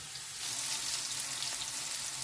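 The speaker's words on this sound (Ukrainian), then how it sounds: "Баклажани обсмажуємо на відкритій сковорідці без кришки і на великому вогні" Eggplant frying in an open, uncovered pan over high heat gives a steady, close sizzle with a crackling hiss, loud and unbroken, with no talking over it.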